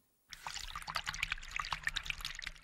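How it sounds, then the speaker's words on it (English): Swollen Coaldale Beck in flood, a normally tiny stream now rushing and shifting tons of gravel and rock, pours in a steady close-up churn with splashing and gurgling bursts after a brief silent start. "This is Coaldale Beck, normally a tiny stream, now a swollen ribbon of water which has shifted tons of gravel and rock."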